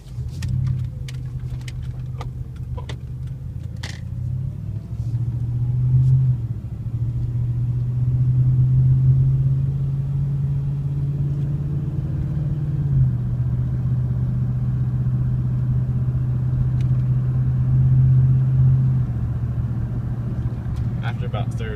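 Pickup truck with a Flowmaster Super 44 muffler accelerating on a highway, heard from inside the cab: a steady deep exhaust drone that rises through the gears and holds loud throughout.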